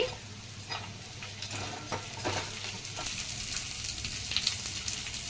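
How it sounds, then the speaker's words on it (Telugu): Onions, green chilies and spices frying in a pan for Telugu fish biryani, with a continuous moderate sizzle and occasional stirring scrapes close by, no voices. "ఒకసారి ఫ్రై చేసుకుందాం"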